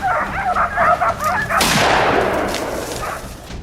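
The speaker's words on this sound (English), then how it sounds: "Distant barking echoes through the woods." Tracking dogs bark in the woods during a wild boar hunt, with repeated barks in the first half giving way to a sharp crack and a broad rushing wash that lingers to the end.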